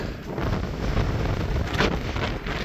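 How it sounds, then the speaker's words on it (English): Strong wind buffets the microphone at a night campsite in a continuous loud roar and rumble, steady throughout with a brief gust swelling partway. "But it is getting pretty windy, so it's time to call it a night."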